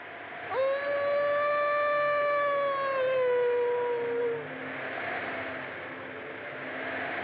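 A single long, wavering howl from a dog down by the river rises and holds for several seconds before trailing off, carried over a faint, hissing background.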